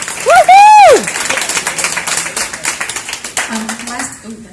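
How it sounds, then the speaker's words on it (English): An audience breaks into sustained clapping and cheering, opened by a loud whooping voice, then a dense, steady wash of applause with scattered shouts that fades toward the end. "if y'all could just give them a round of applause again"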